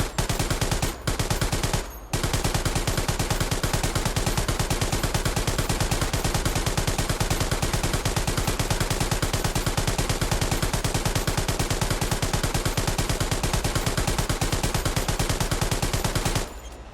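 Sustained machine gun fire in the World War II shooter Hell Let Loose, a loud, continuous rapid rattle of shots that runs nearly unbroken for over fifteen seconds after two brief pauses near the start.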